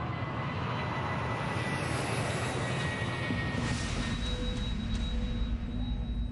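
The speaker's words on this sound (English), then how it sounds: "British Midland Flight 92 takes off on a routine flight to Belfast in Northern Ireland" A British Midland Boeing 737-400 airliner on its takeoff run for Belfast, a loud continuous engine roar with broadband rumble and a faint rising whine, steady throughout.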